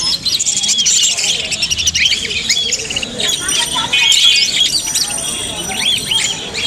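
Caged birds at a bird market in Mirpur-1 chirp and squawk continuously, many high calls overlapping in a busy, loud chorus with faint crowd chatter beneath.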